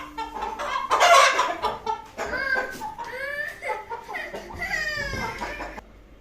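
Chickens cluck and squawk close by in irregular bursts, with a few people murmuring and a voice faintly in the background.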